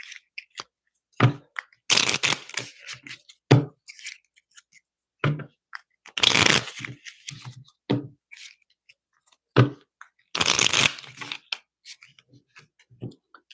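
Tarot cards from a sex magic deck shuffled and riffled in short, loud bursts with pauses between them, along with softer taps and handling noises, close up and without talk.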